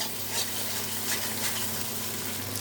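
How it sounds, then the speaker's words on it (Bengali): Bottle gourd peels frying in a pan, a steady close sizzle with soft stirring scrapes running throughout, no voices. "পুরো ভাজা ভাজা হয়ে গেছে।"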